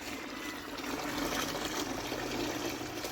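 Continuous watery sloshing and trickling from inside the fuel tank of a Maruti Suzuki 800, a dense, steady liquid wash with no pauses, moderately close and alone without any talking.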